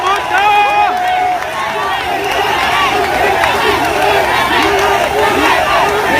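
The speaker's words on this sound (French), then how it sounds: "Applaudissez encore plus fort pour lui." At a Cameroonian political rally, a large crowd cheers and shouts loudly and continuously, a dense roar of voices with whistles mixed in.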